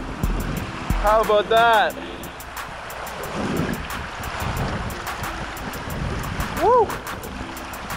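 River rapids rush in a constant, broad roar close by while someone speaks and lets out an excited whoop, with brief whistling tones over the steady churning water.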